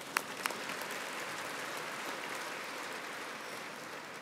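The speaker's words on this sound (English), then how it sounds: "we can applaud Echoing Green." Audience applause at a charity benefit event: a steady, dense wash of clapping from a crowd in a hall, with a couple of sharper individual claps near the start, holding at an even level throughout.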